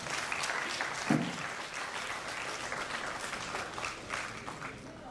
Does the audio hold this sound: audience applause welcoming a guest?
yes